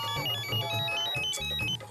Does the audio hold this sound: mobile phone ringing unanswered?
yes